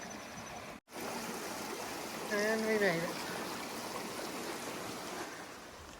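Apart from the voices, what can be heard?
stream at a trail water source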